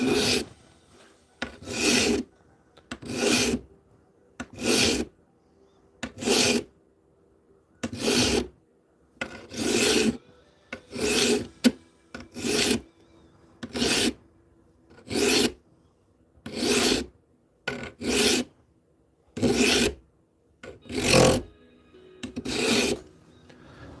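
A file rasps across metal in long, even strokes, about seventeen of them in a regular rhythm with short pauses between, close and fairly quiet with no talking.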